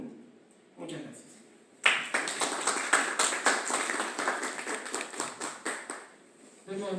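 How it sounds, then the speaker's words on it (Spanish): After a brief quiet stretch, an audience at a conference panel on literature and the gothic breaks into applause, sharp claps rising suddenly and continuing steadily before tapering off, with some voices underneath. "Demos nuevamente un fuerte aplauso para la mesa, tanto a Ángel Escalante y también a Bernal"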